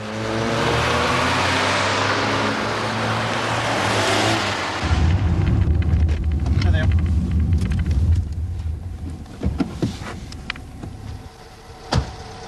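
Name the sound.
two cars speeding down an avenue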